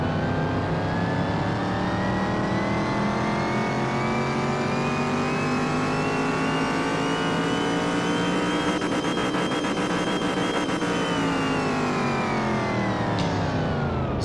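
A Toyota Supra MK4 engine in the video game Car Mechanic Simulator 2021 revs up in a long sustained rise that holds, then eases off, loud and alone with no talking.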